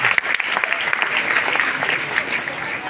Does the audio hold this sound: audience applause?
yes